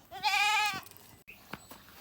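Goat on a farm in Jamaica lets out one loud, wavering bleat up close, followed by faint rustling and a few small knocks.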